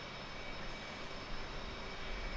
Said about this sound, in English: You guys see that plane? It's got broken wings.